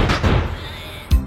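A firecracker goes off during a fireworks setup, giving loud, close, muffled bangs: a rumbling double burst at the start and another sharp thump just before the end.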